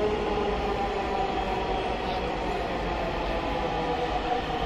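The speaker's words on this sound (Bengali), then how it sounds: "মোটামুটি আমাদের ট্রেনও চলে এসেছে প্ল্যাটফর্মে" A Dhaka metro train pulls into the platform with a steady, even rumble and hum of the rail car, loud and close, with no voices.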